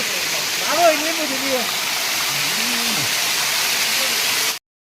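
A waterfall rushes in a steady, loud, broadband roar that fills the whole clip and cuts off abruptly near the end, while voices talk over it.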